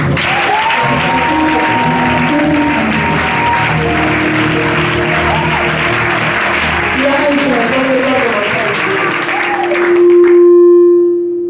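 A congregation at an annual church convention applauds in a steady, loud, sustained wash of clapping that ends abruptly, leaving a held musical tone ringing alone.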